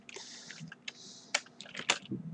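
Keys clatter on a computer keyboard as a Facebook post is typed: a quick, close run of light clicks in uneven bursts, heard alone.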